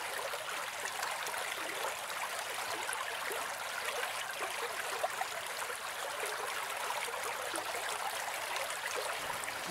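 Spring-fed water of the Muddy River flows at Warm Springs near Moapa, a soft continuous rushing and trickling, steady and moderately faint with no voices.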